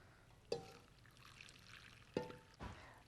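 Warm spice solution is poured over pickles in a jar in a cooking-show kitchen, with two brief pouring splashes and a third softer one over a quiet background.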